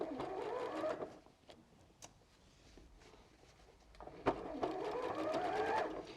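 A home sewing machine running a zigzag stitch on fabric for a fat quarter tote bag, two bursts of fast whirring stitching separated by a pause with small clicks, close and moderately loud.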